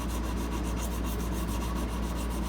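Steady, dense rubbing of 600-grit abrasive over the frets of a 1937 Epiphone Triumph guitar, clearing file marks in an even, continuous scrub close to the microphone.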